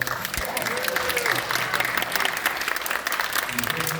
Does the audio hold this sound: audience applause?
yes